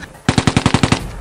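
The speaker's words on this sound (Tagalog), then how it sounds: "Sigaw ni Atan sa unang putok ng barela na narinig nila" A loud, close machine gun fires one sustained burst of about eight rapid, evenly spaced shots, then cuts off abruptly with no voices over it.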